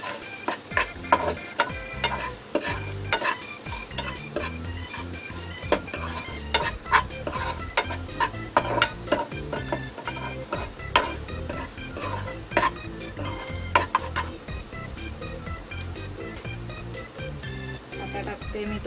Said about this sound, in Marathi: कांदा असा चांगला गोल्डन व्हायला पाहिजे भाजून.